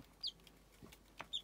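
Faint, high, brief peeps from newly hatched chicks, two or three isolated chirps against a quiet background with a few soft knocks.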